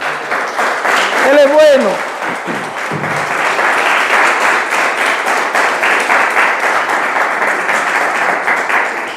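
A church congregation applauds during a Sunday service, steady sustained clapping filling the room for several seconds, with a voice speaking briefly over the start.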